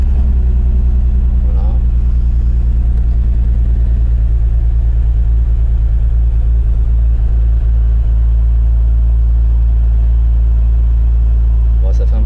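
A turbocharged BMW 330ci E46 with an M54B30 engine runs steadily after starting, a loud, close, even low drone with a fast regular pulse that holds throughout.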